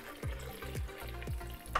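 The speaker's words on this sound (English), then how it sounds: "I'm gonna add a little bit of water because it just needs some substance in there to blend" Water pours into a blender jar with fruit for a wellness drink, coming in a few quick rhythmic glugs that repeat about every half second, moderately close and without talk.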